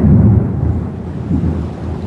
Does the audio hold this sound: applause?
no